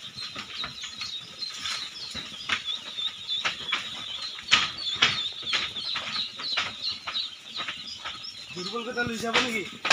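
Duck and chicken chicks at a poultry farm in Barpeta, Assam, peeping in a dense, continuous high chorus with some flapping, and a voice briefly at the end.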